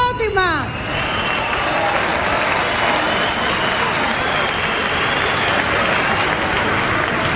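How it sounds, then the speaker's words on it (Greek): A crowd applauds at a televised Greek Eurovision 2005 national selection show: dense, sustained clapping fills the hall throughout, with a brief whistling sweep at the start. "Χειροκρότημα."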